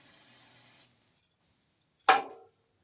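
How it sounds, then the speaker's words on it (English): Aerosol cleaner sprayed onto a carburetor part from a Ferguson TO-20 tractor: a steady, close hiss lasting under a second, then quiet and a brief rubbing wipe. "Let me go ahead and spray it down and wipe it off."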